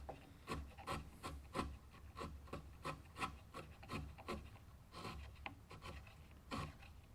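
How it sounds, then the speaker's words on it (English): A sharp chisel pares cypress wood by hand in rhythmic, rasping strokes about twice a second, soft and close, with no talk. "you can just see how beautifully it cuts with that mixture on there and a sharp chisel"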